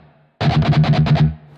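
Heavily distorted electric guitar chugs out the syncopated rhythm of a riff, about eight sharp palm-muted hits in quick succession, loud and close with no other sounds.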